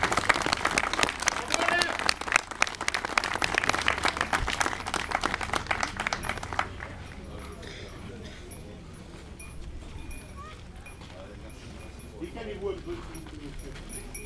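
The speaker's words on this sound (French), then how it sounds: "vous pouvez l'applaudir parce qu'il a beaucoup donné." Audience clapping at an outdoor ceremony of a hunting-dog federation, dense, steady applause for about six seconds that then thins out, with crowd chatter and voices continuing afterward.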